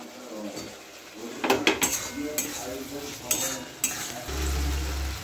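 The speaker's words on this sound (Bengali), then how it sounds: "এখানে আমি টমেটোটা দিয়ে দিচ্ছি" Tomato going into a pan of Bengali chicken curry, with metal spoon clinks and stirring scrapes against the pan over a soft sizzle, several sharp knocks in the middle, and low background hum.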